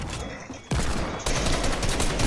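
Video game gunfire in an online shooter match, a dense fusillade of rapid shots that steps up in loudness twice and continues as a sustained, harsh burst with no voices.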